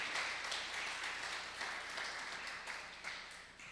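A church congregation applauds during a sermon, a faint, steady spatter of many hands clapping heard from a distance, holding evenly throughout the short stretch.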